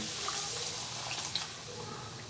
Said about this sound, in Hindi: और अब हम इसमें डालेंगे पानी।